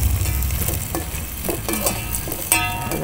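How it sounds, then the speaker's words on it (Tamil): Onions frying and sizzling in a pan while being stirred for a sheep blood fry, a steady close crackle with occasional louder spatters, no voices. "நல்லா வெங்காயம் கொஞ்சம் நல்லா வதங்கட்டும்"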